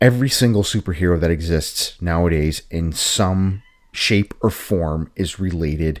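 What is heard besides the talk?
cat crying in the background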